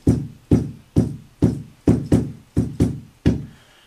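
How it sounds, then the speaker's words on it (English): Wooden sticks knocking in a steady rhythm, nine hollow sharp taps, evenly paced with a couple of quick doubled hits, close and clear. "So I'm going to play sticks, first rhythm"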